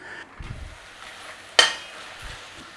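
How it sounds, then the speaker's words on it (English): Onions frying softly in butter give off a faint, steady sizzle, broken once by a sharp metallic clink of a utensil against the pan. "Water evaporates, butter oil takes over. We start to caramelize them down."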